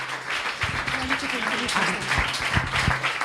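Audience at a pub science talk applauding the next speaker, sustained clapping with voices talking over it.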